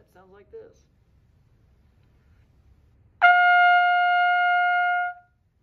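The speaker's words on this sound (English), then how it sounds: "And a high note on the cornet sounds like this." Single high note on a cornet, held about two seconds with a clean start and fade, close and clear, after brief speech.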